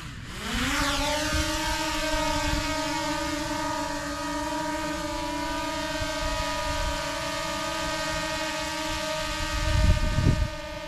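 A DJI Mavic Air drone spins up its motors for a precision takeoff, rising quickly into a steady, loud, multi-toned propeller whine that holds evenly for about ten seconds, with a brief low rumble near the end.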